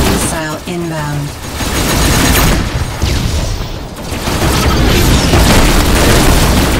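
Missile explosions in the space combat game Rebel Galaxy Outlaw, rolling loud booms and rumbling blasts filling most of the stretch, with a brief tonal alert sound near the start.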